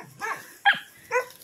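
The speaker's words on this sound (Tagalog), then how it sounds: "Ito pala mga alagang aso ni tatay." Pet dogs on a rural family property in the Philippine countryside give three short, close barks spaced about half a second apart, each one sharp and distinct against a quiet background.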